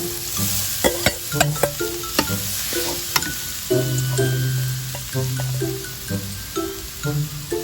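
Garlic and steamed mung beans are stir-fried in a pan, with a steady sizzle under repeated close scraping and knocking of a utensil against the pan in an irregular rhythm.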